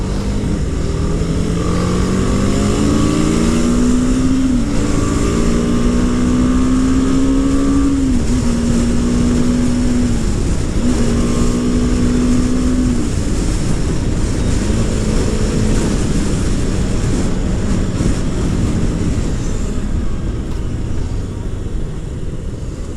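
A BMW G310R motorcycle engine runs continuously while riding, a loud, steady drone that climbs and settles in pitch through gear changes, with strong wind rush throughout.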